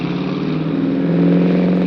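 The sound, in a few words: boat cruiser engine starting and speeding away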